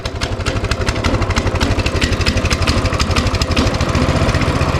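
A Coleman 200cc mini bike engine runs after a choke-on pull start, putting along loud and close in a fast, even, slightly uneven beat with no talk over it.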